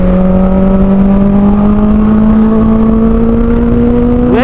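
Honda CBR 650R middleweight sports tourer with its dB killer removed and an upshift-only quick shifter, its engine whining loud and close as revs climb steadily, with a sharp shift at the very end.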